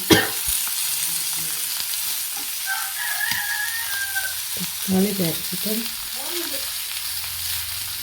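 Fish frying in a pan of oil with tomato and capsicum, a steady close sizzle running throughout, with a few louder crackles and soft stirring scrapes partway through.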